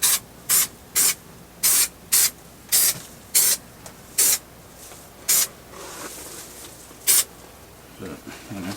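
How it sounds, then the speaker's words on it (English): Short bursts from a can of spray glue coating camper van insulation, about a dozen sharp hissing puffs in an uneven rhythm, loud and close, with quieter rustling afterward. "I'm gonna have to be a bit stingy with the spray glue"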